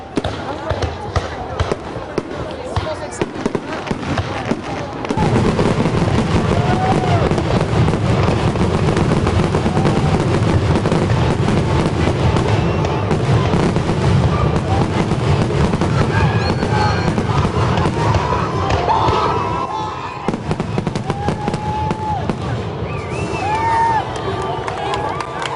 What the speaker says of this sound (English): it's little launchers for the fireworks.